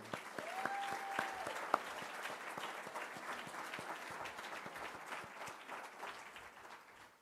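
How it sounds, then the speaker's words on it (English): Audience at an awards luncheon applauding honorees, sustained dense clapping from a sizeable crowd that slowly fades, with a brief whistle early on. "let's hear it one more time for Anna and Suzanne."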